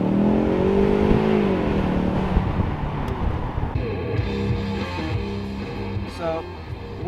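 Ford Mustang convertible driving with the top down, steady engine hum and rushing road and wind noise throughout, with a person talking over it.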